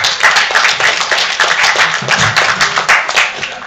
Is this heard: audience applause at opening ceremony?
yes